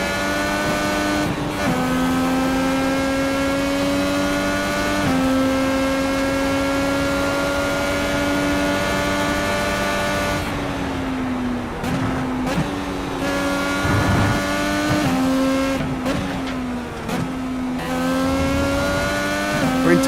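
IndyCar race cars roar around a track in iRacing, a loud sustained engine whine that shifts pitch through gear changes, braking and downshifts, with several cars audible and no voices.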